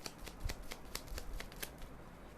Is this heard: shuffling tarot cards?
yes